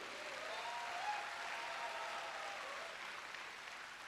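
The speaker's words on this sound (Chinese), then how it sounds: "我们再一次给热烈的掌声" An audience at a regional leadership training meeting in Malaysia breaks into warm, sustained applause, a steady wash of clapping lasting about four seconds with no voices over it.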